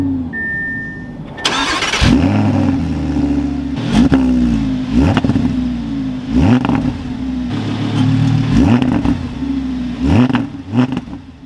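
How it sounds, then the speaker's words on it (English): A 2021 Audi R8 V10 RWD fires up with a sharp starter whir and loud bark, then settles into a steady idle punctuated by several quick revving blips, close and alone. "with my foot on the brake, we can go ahead and fire this up"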